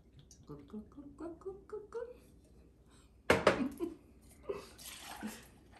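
Bourbon glugs in short bubbling pulses into a cocktail shaker, followed by a sharp clatter and rattle of ice or metal.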